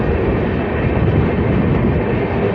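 A passenger express train running at speed while overtaking another train, a loud, continuous rumble of wheels and carriages with a steady rolling roar heard from aboard, no voices.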